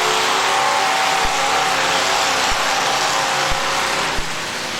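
Dirt track race cars roar loudly and steadily at a big car heat, a continuous engine drone with a few sharp thuds, no one talking.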